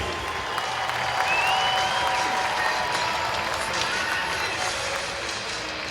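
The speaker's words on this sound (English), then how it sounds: "Let's give another round of applause to tonight's hometown hero, John Murphy." A crowd applauding inside a hockey rink during an Erie Otters game, the broad wash of clapping and cheering sitting at a distance in the big arena and holding steady throughout.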